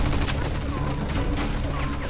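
Dense machine gun fire rattles continuously in a Mafia II wartime battle, loud and close, with the bursts running together into one steady barrage for about two seconds.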